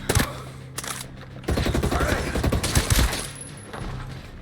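In the shooter Ghost Recon Breakpoint, gunfire comes from two directions at once. Several sharp shots at the start lead into sustained rapid bursts of automatic fire with loud cracks, which then trail off.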